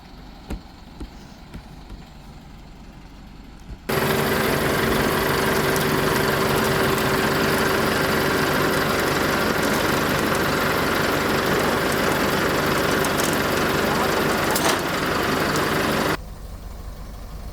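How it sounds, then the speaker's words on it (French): A tow truck arrives and idles nearby during a vehicle repatriation in Croatia, its steady, loud heavy engine rumble running unbroken for about twelve seconds before dropping back to quieter background. "Donc le dépanneur arrive, juste là."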